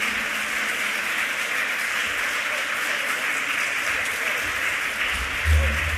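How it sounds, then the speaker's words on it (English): Audience applause at a film premiere in Berlin, a steady broadband wash of clapping held at even level throughout, with a brief low thump near the end. "Können gerne applaudieren."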